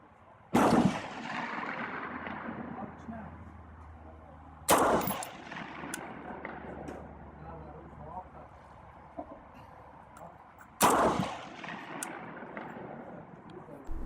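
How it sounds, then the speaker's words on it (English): An SA80 L85A1 semiautomatic rifle fired one shot at a time on an outdoor range: three loud, sharp reports several seconds apart, each ringing away into an echoing tail, with quiet voices in the lulls. "So I've only fired a 10 round group this time, and it's ended up not far off actually."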